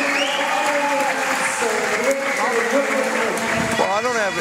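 At a women's wheelchair basketball world championship semifinal between the Netherlands and China, a crowd cheers and claps steadily while the team applauds back to the fans, with voices mixed into the dense, continuous applause.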